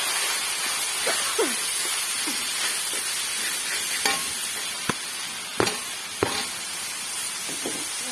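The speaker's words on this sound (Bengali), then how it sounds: "বাঁধাকপিগুলো দিয়ে সুন্দর করে নাড়াচাড়া করে এবার ভালো করে কষিয়ে" Shredded cabbage sizzles and hisses steadily in a hot pan while being stirred, with occasional scraping clicks from a spatula and no talking.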